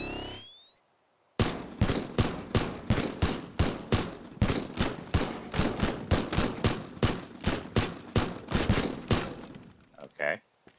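Rapid gunfire from the video game Teardown: a steady burst of about twenty loud, evenly spaced shots after a brief quiet start, ending with a couple of scattered thuds.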